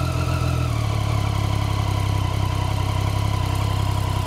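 A motorcycle engine idles high with the throttle not closing fully, a steady, loud, close drone with a constant pulsing rhythm and no talk.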